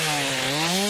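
Chainsaw running in a post-apocalyptic survival game, a loud close steady motor whine whose pitch climbs slightly as it revs, heard alone.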